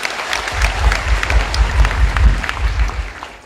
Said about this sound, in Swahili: Pigieni wa mama makofi